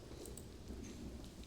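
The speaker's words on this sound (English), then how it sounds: "Unbelievable that he has freezing rain." Freezing rain spell in the video game Rise of the Witch-king, a steady, faint hiss of heavy rainfall with a low, rolling thunder-like rumble underneath.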